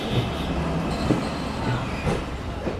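Mahananda Commuter train arriving at platform 2 of Alamdanga railway station, a steady broad rumble of rolling wheels and carriages with faint squeals and knocks, moderately close.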